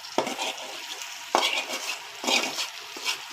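Beef tripe fries in a little oil with a few simple spices, with a steady hissing sizzle and three or four scraping stirs of a utensil against the pan, close by.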